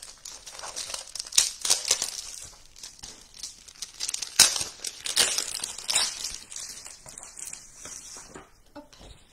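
Patterned card-making paper is handled and shuffled, giving irregular crinkles, rustles and sharp crisp snaps close up, with quieter pauses between movements.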